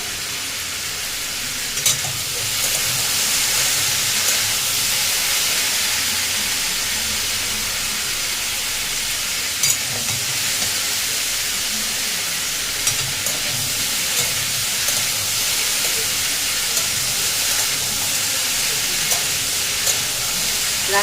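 Food fries in a pan on a home stove during dinner preparation of white potato chorchori and luchi. A constant close hiss and sizzle runs the whole time, with occasional small pops and clicks.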